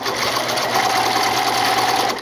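A sewing machine runs steadily for a couple of seconds, stitching binding onto a tank top with a fast, even mechanical whir close by.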